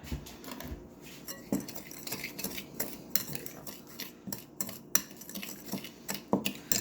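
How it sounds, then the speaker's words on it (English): A spoon scraping and clinking against a bowl while muffin topping is mixed, with irregular quiet close knocks and rubbing strokes throughout and no talking. "Mix the topping together."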